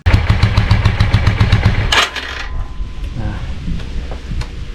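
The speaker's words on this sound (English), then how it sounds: "it seems to be idling very high, and it seems to be like misfiring as well" A 34-year-old Yamaha motorcycle engine runs loud and close with a fast, uneven pulsing beat for about two seconds, then cuts out to a quieter rumble and background noise.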